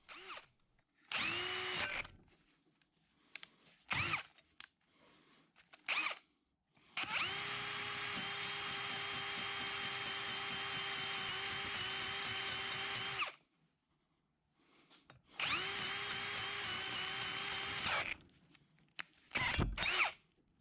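A power drill bores oil passages in a K&T saddle casting, running in several bursts, two long sustained whines and shorter starts, with the bit grabbing, close and loud between quiet pauses.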